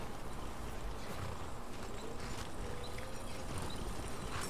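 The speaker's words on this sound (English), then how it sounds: "Before this horse takes our tent down." Horse in the video game Skyrim: faint, soft hoof clip-clops over a constant background of ambient game noise, with no voices.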